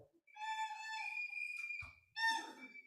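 Party whistles blown by an audience at a live brand awards event: a chorus of shrill, sustained tones swells and overlaps, dips, then a second loud burst of whistling rises near the end.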